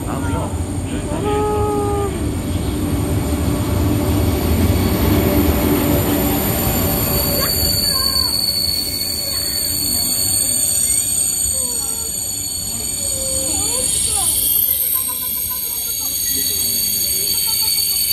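KTX-Sancheon high-speed train bound for Gangneung pulling into Cheongnyangni station, loud rolling rumble and squealing wheels with electric motor whine, steady and close on the platform, with a faint chime near the end.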